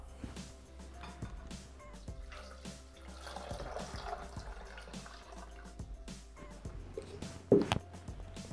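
Water poured into a Thermomix bowl with dried fava beans while preparing pasta, a soft continuous pouring and trickling with faint clinks, fairly quiet and close.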